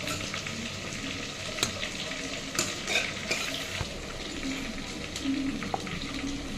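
Shallots sauté in oil for a spinach kuzhambu, giving a close, continuous sizzle broken by the scrape and clink of a spoon stirring the pan.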